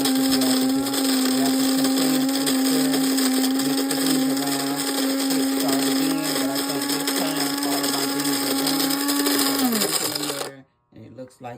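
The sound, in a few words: Cuisinart grinder grinding coffee beans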